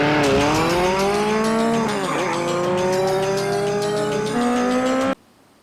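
A motorcycle engine roars loudly in a Freddy Krueger horror film scene, its pitch climbing and sweeping through revs with a tire-squeal-like whine mid-way, then cutting off abruptly near the end.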